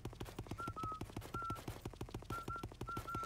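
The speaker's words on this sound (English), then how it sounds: "Luigi whistles along with the main theme of the game" Luigi whistles the main theme in the video game Luigi's Mansion: short, clear whistled notes come in phrases over a steady, rhythmic game soundtrack with thumping percussion.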